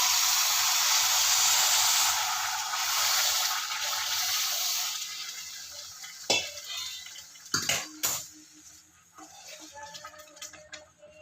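Boiling water is poured onto semolina roasted in ghee, giving a loud steady hiss and sizzle that eases off, followed by a few sharp clinks of a utensil against the pan.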